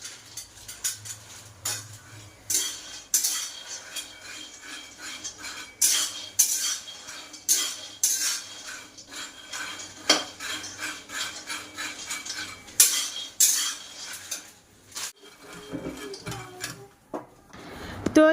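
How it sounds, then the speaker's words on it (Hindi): Peanuts are roasted in a pan while a spoon stirs and scrapes them, giving repeated close metallic clinks and scraping rubs in an irregular rhythm, with quiet pauses between strokes. "तो यहाँ पे मूँगफली जो है वो मैं भून रही हूँ"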